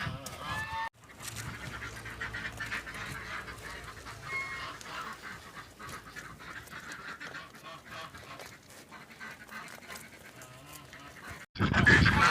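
Geese honk repeatedly in a busy, overlapping chorus, close and fairly loud, with a sharp louder burst at the very end.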